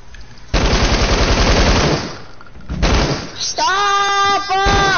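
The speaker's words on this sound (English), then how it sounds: "Why are you shooting people down?" Gunfire in the video game Fortnite, loud rapid bursts of shots filling most of the clip with a short gap, followed by a voice-like tonal sound at the end.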